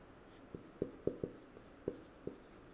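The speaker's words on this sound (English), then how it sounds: "we will write this definition." Handwritten definition for a biology lesson, pen or chalk tapping and scratching in about six distinct strokes spaced irregularly, close and quiet against a faint background hiss, with no talking.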